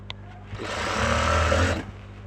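A sewing machine runs a hem stitch along fabric folded in by 1.25 inches. It makes one steady, close burst of about a second and a half, preceded and followed by small clicks and handling sounds, with no talk.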